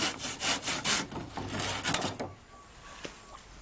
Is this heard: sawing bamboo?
yes